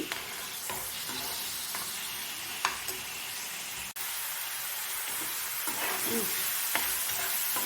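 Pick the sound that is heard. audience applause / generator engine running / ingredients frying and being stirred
ingredients frying and being stirred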